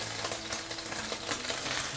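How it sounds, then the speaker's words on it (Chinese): Chicken legs pan-frying until browned, a dense continuous sizzle with light crackling and pops, steady and close throughout with no voices. "我们把这个两面都煎到这种焦褐色之后呢，它就出香了"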